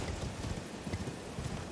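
In Elden Ring, a horse's hooves clop in a quick, even rhythm while riding along a cliff edge, a faint, continuous trotting beat close by with no voices over it.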